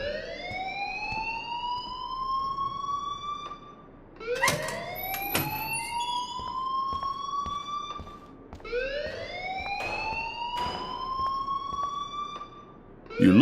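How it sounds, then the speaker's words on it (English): Rising electronic alarm in the video game Life is Strange, a whooping siren tone that sweeps upward and repeats about every four seconds, loud and continuous with faint background noise. "please turn off that alarm since that's your job"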